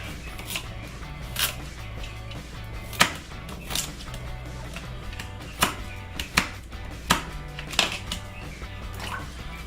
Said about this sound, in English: Just chopping up some carrots.